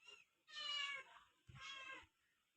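Mother cat with four newborn kittens: two drawn-out, fairly faint meows, close by, with quiet pauses between.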